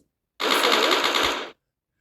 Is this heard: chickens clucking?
no